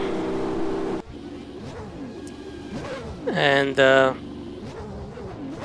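In the racing game rFactor 2, a race car engine revs as the car leaves the garage. A short, rising, whining burst stands out above a brief voice and a low engine hum.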